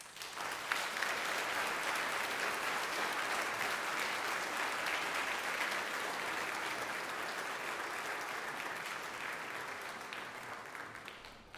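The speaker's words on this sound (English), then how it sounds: "let's give them one more round of applause" A school audience applauds the seniors at an honors night, a long, even roar of many clapping hands heard from a slight distance that fades a little toward the end.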